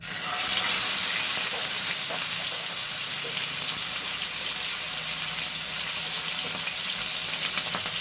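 Fish roe dropped into hot oil in a pan sizzles in a steady, close, loud hiss with light crackling, continuing evenly without talk.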